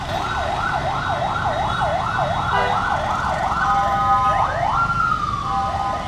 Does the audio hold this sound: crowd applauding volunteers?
no